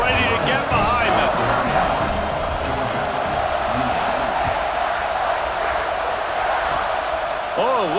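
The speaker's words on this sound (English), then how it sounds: "this crowd now ready to get behind them" Virtual stadium crowd in EA Sports College Football 26 roaring steadily before a kickoff, a broad wash of cheering and whoops under continuous commentator talk.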